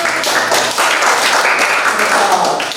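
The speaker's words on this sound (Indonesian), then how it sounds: "Terima kasih, tepuk tangan." Classmates clap for a student group after a school science observation presentation, a short patter of hand claps with uneven taps and a few soft thuds, close by in a classroom.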